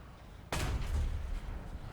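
A tank cannon fires in War Thunder on a jungle map, a single sudden heavy blast followed by a rumbling low tail, with no talking.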